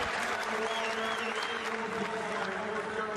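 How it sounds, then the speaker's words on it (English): Steady, dense stadium crowd noise at the men's 110m hurdles semi-final of the 2021 USA Olympic track and field trials fills the whole stretch, a continuous roar with cheering and clapping texture, loud and unbroken throughout. "And you hear the roar from the crowd."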